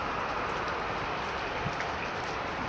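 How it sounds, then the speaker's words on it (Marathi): Steady broadband hiss of rain falling during a March downpour, a continuous dense patter with no distinct drops standing out, fairly quiet and unbroken throughout. "बघा आमच्या क्लासेस जोरात पाऊस पडायला लागला"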